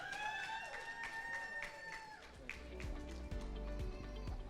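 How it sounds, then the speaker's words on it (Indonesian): An audience applauds at a leader forum event: a voice speaks first, then a burst of scattered clapping rises and carries on to the end. "Mari kita beri tepuk tangan yang meriah."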